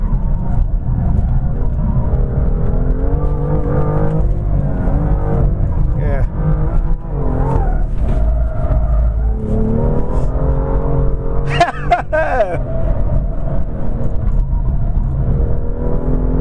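A BMW F87 M2 race car lapping Inje Speedium circuit, its engine droning and rising through revs with brief squeals and shifts, while a driver talks over the steady cabin rumble.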